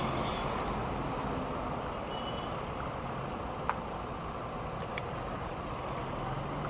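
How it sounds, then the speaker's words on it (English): Steady road noise from a traffic jam in Mumbai, heard from a bicycle: a dense, continuous rumble of engines, with a faint click partway through and no talking. "The traffic jam is still there."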